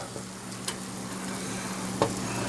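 Rice being stirred in a pot of boiling water, a steady bubbling hiss with a few faint scrapes of the spoon against the pot.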